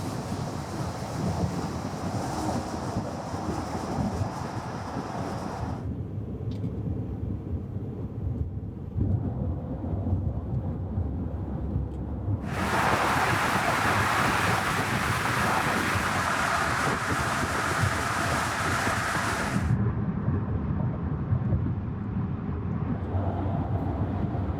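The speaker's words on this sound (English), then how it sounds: "So these do have a definite higher pitch to them, shall we say, than the the factory stock tires." Off-road all-terrain tires rolling on pavement heard from inside a moving car, a steady low roar with a hum, broken by stretches of louder, brighter rushing noise from changing road surfaces.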